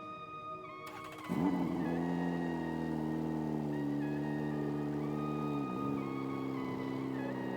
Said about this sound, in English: We just got to back the car up into the paint booth and get ready to paint.